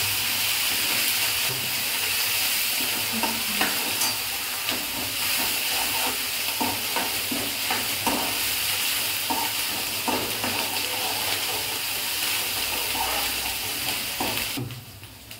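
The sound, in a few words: onion garlic paste frying and stirred in a pan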